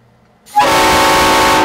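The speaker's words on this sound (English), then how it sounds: "All right, this is what it sounds like at 140 pounds of pressure." A homemade PVC train horn built around a Leslie S5T, blown at 140 psi, bursts in after brief quiet and holds a loud, steady, multi-tone blast right up close with no pause.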